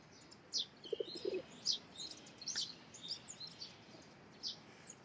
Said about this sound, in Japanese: 強い鳩ですね。